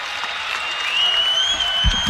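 Volleyball arena crowd cheering and applauding after Nebraska's four-set win over UCLA, a dense, sustained roar of clapping and voices with a whistle-like tone rising over it and a few heavier thumps near the end.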